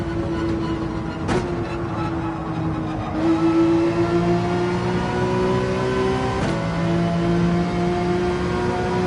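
A Porsche 911 engine in Gran Turismo 7 revs loudly and continuously, its pitch climbing through the gears with two sharp shift breaks, close and dominant.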